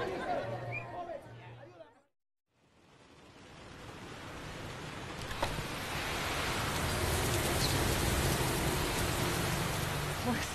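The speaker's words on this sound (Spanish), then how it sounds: "Escuchad el sonido de la lluvia." A tropical rain shower falls steadily in the Amazon jungle, a dense hiss that begins after a short silence and builds to a loud, continuous wash over the rest of the clip.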